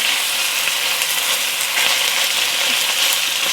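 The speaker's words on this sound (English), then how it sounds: "Just trying to get a good sear on it on one side before flipping it over." Chicken pieces and ginger searing in a hot pan give off a loud, dense, continuous sizzle close by, with faint crackles and no talking.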